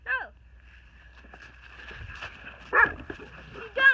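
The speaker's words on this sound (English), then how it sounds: "That's my dog, guys." A dog in a snowy outdoor setting gives a few short barks and yelps, one near the start and louder ones toward the end, separated by quieter rustling and faint background noise.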